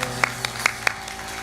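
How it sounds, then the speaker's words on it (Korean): A church congregation gives a few spaced, distinct claps in praise after a hymn, fairly faint and sparse against a steady background hum. "하나님께 영광의 박수 올려드리겠습니다"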